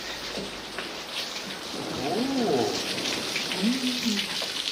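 Steady rain patters down in a continuous hiss, with a bird cooing softly a couple of times in the background.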